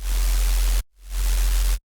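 Two buzzing bursts of heavily overdriven synth sub bass made in Phase Plant, thick and gritty, separated by a brief gap and then cut off abruptly.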